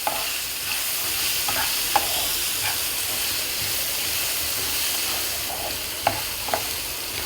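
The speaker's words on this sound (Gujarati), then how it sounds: "અને હવે થોડીક વાર હલાવશું." Mixed vegetables including capsicum and carrot stirred in a hot pan for vegetable idli: a steady broadband sizzle and hiss with a few sharp spoon clicks against the pan, close and moderately loud, no talking.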